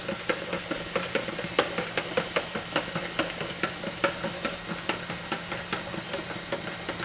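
Water runs steadily into a Kool-Aid container while it is stirred counterclockwise: a constant rushing hiss with quick, regular knocks from the stirring, no talk.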